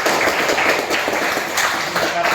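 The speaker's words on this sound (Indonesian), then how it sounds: "Kita tepuk tangan teman kami yang berdoa." A class of students applauds a classmate who has just led a prayer during a Christian religious education lesson. Dense, steady clapping from many hands fills the room for the whole stretch, fairly loud and close, with voices murmuring underneath.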